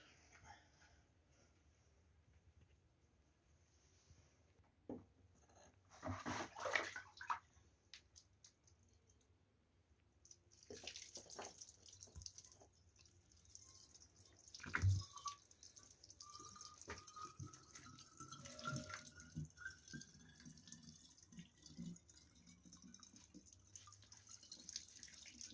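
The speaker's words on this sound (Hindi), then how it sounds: "अभी हेड में हम पानी डालेंगे" Water is poured into the head of a donkey pump being repaired, giving faint splashing, dripping and trickling sounds that come and go in a quiet outdoor setting, growing busier toward the end.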